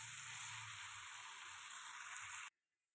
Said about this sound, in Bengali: টমেটো দিয়ে ভালো করে মাংসটাকে এবার কষাতে কষাতে হবে